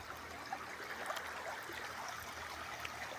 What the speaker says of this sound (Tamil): பாருங்கள் அருவி மாதிரி ஊற்றுது